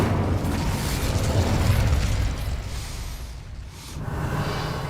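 A fire spell blast cast in Hogwarts Legacy at a gate, a sustained roaring whoosh that swells loud in the first half and then tapers off, with no voices over it.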